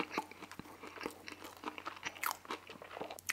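Crispy Burger King Nashville hot chicken sandwich being bitten and chewed up close, a quick series of sharp, crackling crunches with small gaps between, faint and intimate, with no talking.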